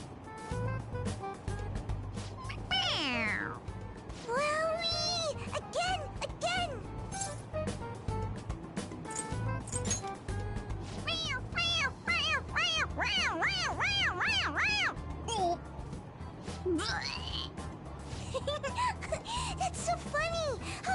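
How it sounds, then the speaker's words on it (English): A toy cat from the video game Persona 5 Royal gives repeated high, bending meows when its head is pressed, mixed with game voices talking and background music throughout. "It's, a toy. It meows when you press on its head."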